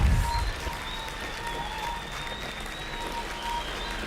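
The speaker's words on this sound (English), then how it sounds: "Stormtrooper is clapping for us for the Ghost also." Applause from a small group during a livestream, a steady soft patter of clapping under faint tonal hum, slightly louder at the very start and fairly distant throughout.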